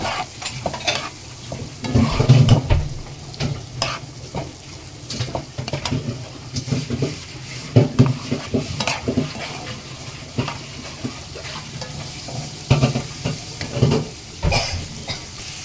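Onion frying in oil in a frying pan, a continuous close sizzle broken by repeated stirring and scraping strokes and occasional knocks of the utensil against the pan, with no voices.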